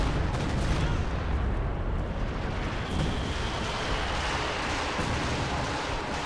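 Continuous heavy artillery barrage in Company of Heroes 2, an artillery duel between US-Soviet and Wehrmacht-OKW forces, with dense overlapping booms and rumbling blasts forming a loud, unbroken wall of battlefield noise.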